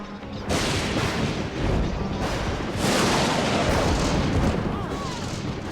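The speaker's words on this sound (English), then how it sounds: "The sound of the thunder is like standing next to an explosion of a ton of TNT." Deep, loud thunder booms and rumbles in heavy rolling bursts, one crash following another with barely any pause.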